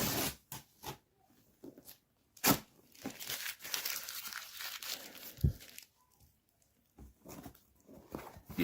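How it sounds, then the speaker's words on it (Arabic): Cardboard carton of Lulu cheese-flavoured snacks torn open by hand, with sharp ripping and crinkling bursts, a few brief loud tears and scattered rustles, close and with no talking. "يلا بينا نفتح الكرتونه كده"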